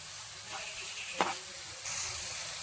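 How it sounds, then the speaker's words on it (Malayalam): Ghee sizzling in a hot pan with jaggery, a steady soft frying hiss with a brief sharper crackle burst midway and the sizzle swelling brighter near the end. "ഇതിലേക്ക് ഇനി ഒരു സ്പൂൺ നെയ്യ് കൂടി ചേർത്ത് കൊടുക്കാം"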